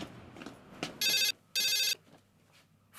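Telephone bell ringing twice in loud, evenly spaced bursts of electronic trilling, with quiet room noise and faint background sounds between the rings.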